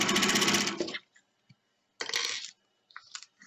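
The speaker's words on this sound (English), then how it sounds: "Sew as close or as far away from the seam as you would like. And I'm sewing around in a circle." A sewing machine stitches fabric around in a circle in short bursts: a loud rapid whirring run of about a second, a pause, then two shorter runs, with small clicks between them.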